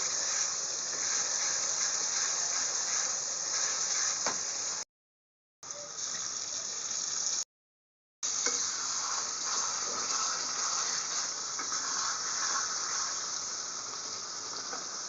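Cut chicken pieces land in a hot pan and hiss loudly in a continuous broad sizzle that holds steady for long stretches, with two brief silent cuts.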